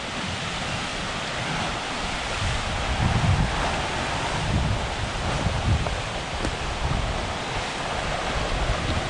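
Wind and waves roll steadily onto the lake shore of Kelleys Island after a storm, a continuous rushing surf with gusty wind noise and no voices.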